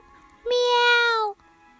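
A single drawn-out cat meow, loud and close, lasting just under a second against a quiet background.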